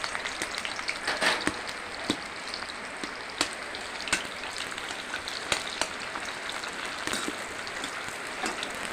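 Onions frying in a pan, a steady crackling sizzle with scattered sharper pops and spits throughout, close and fairly loud, with no talking.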